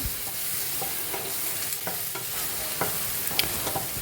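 Sliced okra stir-fries in coconut oil without any water, giving a steady close sizzle broken by repeated scraping and stirring strokes against the pan. No voices are heard.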